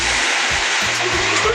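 Pool filter pump running loudly after installing a Polaris Quattro Sport pressure cleaner, a steady broad whooshing roar close by with low motor rumble underneath.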